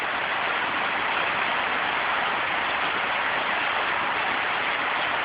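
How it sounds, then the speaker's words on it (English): Rain falls on a tin roof, a dense, even hiss of drops that stays constant and fairly loud without any pauses, and no voices are heard. "I'll shut my mouth so you can hear the sounds of rain on my tin roof."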